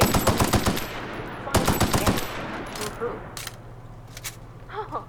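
Automatic rifle bursts in The Outer Worlds: two loud, rapid volleys fired up close, followed by quieter scattered shots, clinks and game sounds, with voices talking underneath.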